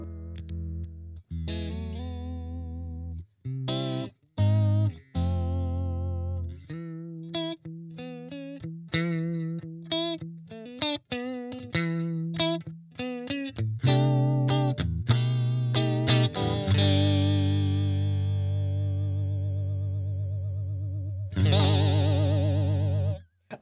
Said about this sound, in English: Moving over to the modulations, we're going to get all the usual stuff we expect in here. Chorus, flanger, the phaser, and a couple of trems and vibratos.